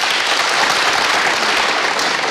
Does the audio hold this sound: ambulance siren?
no